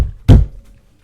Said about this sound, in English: So I bang on your door.